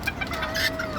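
Bantam chickens clucking up close in a brief burst of overlapping hen calls.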